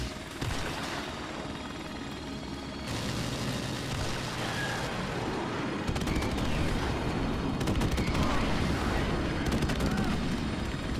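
Rapid gunfire aimed at a helicopter in a shooter video game, dense bursts of shots over a constant rotor drone, loud and close, with the shooting growing heavier in the second half.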